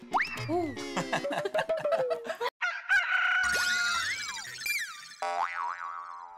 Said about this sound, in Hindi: तुम्हें मुर्गी की आवाज आई अभी?